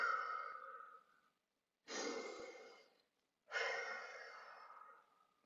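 Three slow, deep tonic breaths, each a long audible exhale or inhale trailing off into silence before the next, close and unaccompanied.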